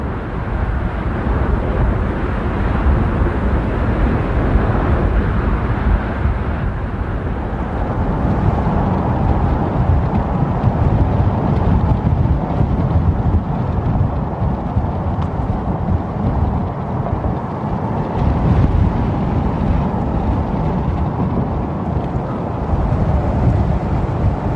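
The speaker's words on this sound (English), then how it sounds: "It's the sound of wind coming in the open windows while driving." Wind rushing in through open car windows while driving, a loud, steady roar with deep low rumble and no voices throughout.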